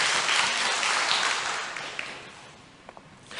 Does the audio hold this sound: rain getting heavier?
no